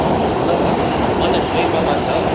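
A subway train rides with a loud continuous rumble and rattle of wheels on rails, heard steadily throughout from inside the car.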